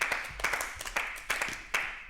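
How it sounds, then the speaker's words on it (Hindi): Audience applause and clapping at a stand-up comedy show as a comedian is welcomed onstage, a steady patter of many hands with sharper bursts, moderately loud and without talk. "एक बार जोरदार तालियां"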